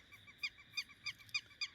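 An unidentified bird calls around a tent at night during solo hilltop camping, giving five or six sharp, harsh honking calls in a steady rhythm about every third of a second, fairly close and clear over quiet background.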